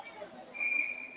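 Referee's whistle at a 12U youth ice hockey game, a single sustained shrill blast rising out of faint rink noise, with a voice briefly audible.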